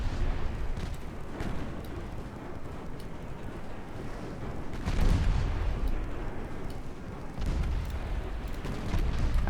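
The cruiser Youngstown fires its guns in a naval warfare video game: heavy booming salvos with rolling rumble, loudest bursts landing near the middle and end over a constant low battle roar.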